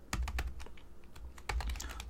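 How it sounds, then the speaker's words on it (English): Someone types an install command for the Bokeh library into a terminal or command prompt on a computer keyboard: a close run of crisp, uneven key clicks that pauses briefly, then resumes, with no talk. "install Bokeh by typing conda install Bokeh"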